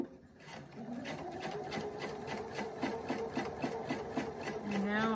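Sewing machine stitching fabric with red thread, a faint, steady rapid run of rhythmic needle pulses with rubbing mechanical texture, heard alone at close range.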